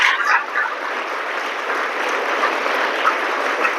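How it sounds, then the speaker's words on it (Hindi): A school audience claps loudly and continuously, a dense wash of applause that holds steady for several seconds. "एक बार इनके लिए जोरदार तालियां।"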